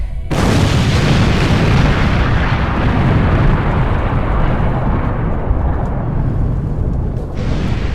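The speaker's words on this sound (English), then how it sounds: "And then Tongariro erupted!" Volcanic eruption effect for the legend of Tongariro erupting: a massive, sustained rumbling roar that swells abruptly at the start and holds loud and dense, easing slightly near the end.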